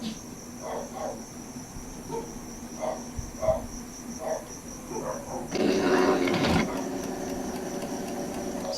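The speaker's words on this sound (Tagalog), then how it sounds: "So try muna natin mag head cleaning." An Epson L3110 inkjet printer runs a print head cleaning cycle, producing faint rhythmic chirping clicks followed by a louder mechanical whirring burst, heard close with a quiet background hum.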